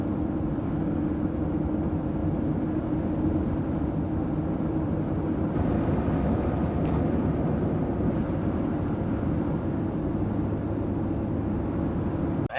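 A 2020 Jeep Gladiator on unbalanced 40-inch tires drives down a road, a steady low rumble of engine and tire noise heard from inside the cabin without pause.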